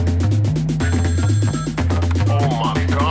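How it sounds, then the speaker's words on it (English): A phone rings with an incoming call, a loud repeating electronic ringtone pattern set over a steady rhythmic beat, with no speech during it. "she calling my other phone, she calling a trap phone"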